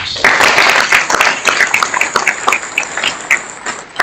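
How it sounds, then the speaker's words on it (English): Loud audience applause at a theological forum, a dense wash of clapping that starts strong and gradually tapers off over a few seconds. "May we again thank him by a round of applause."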